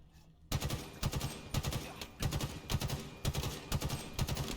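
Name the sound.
gunfight gunfire in video game Halo Infinite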